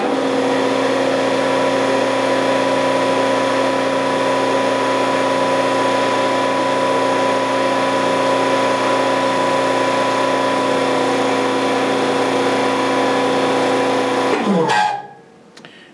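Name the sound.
hydraulic power unit starting and running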